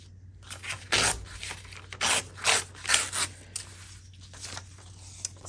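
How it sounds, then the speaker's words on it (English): Scissors cut scrap paper into strips in a series of close, crisp snips and rasping cuts, about six to eight of them in quick irregular succession. "going to cut it into strips. I want to make sure to cut some strips thicker than others."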